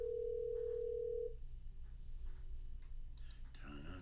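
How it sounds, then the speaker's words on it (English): A phone call goes unanswered, a steady electronic ring tone holding for over a second, then fading to quiet line hiss with faint clicks before a voice begins. "He's not gonna answer the phone."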